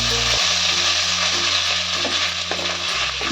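Mashed winter vegetables frying over low flame with cumin tempering in a pan, a continuous close sizzle under steady stirring with a low hum in the background, and no voices.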